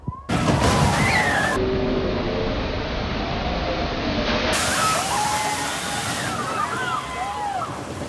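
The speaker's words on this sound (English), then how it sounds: "Snake River Falls will get you absolutely drenched." Water rushes and sloshes loudly at the Snake River Falls water ride at Cedar Point, a steady splashing roar with distant screams and voices rising over it.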